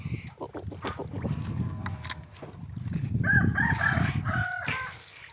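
Chickens and a rooster on a Thai relatives' farm with fish ponds, frogs and geese, clucking and then crowing loudly nearby, with a brief second crow at the end over a low outdoor background.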